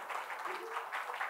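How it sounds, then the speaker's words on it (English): A short burst of audience clapping for a distinguished lecturer at an institute lecture hall, fairly faint and even, with a murmur of voices mixed in beneath it. "Clap for him."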